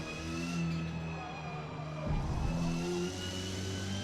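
Hyundai Velos touring car racing in Forza Motorsport, its engine holding a loud sustained whine with shifting pitch and a brief rough surge midway, continuous and close.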